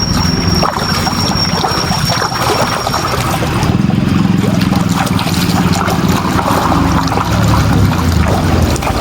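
Feet are washed in cold water from a canal beside farm fields after a day's work, giving a continuous, close sloshing and rushing of water throughout.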